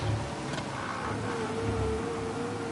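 A steady car engine hums along with a faint rising whine, like a vehicle cruising in the video game Mafia, with no voices.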